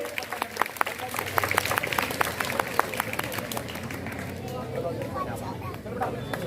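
Applause for school children at a government high school's Independence Day prize event, a scattered crowd clapping with distinct sharp claps over a murmur of voices and background chatter.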